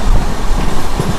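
Padmavati SF Express LHB passenger train running at speed, a loud, close roaring rumble of wheels on rails with rapid rhythmic clatter, no voices.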